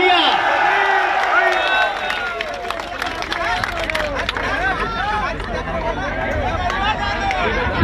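A crowd at a road show in Nagpur claps amid loud cheering and chatter, a dense, continuous hubbub with voices shouting over it.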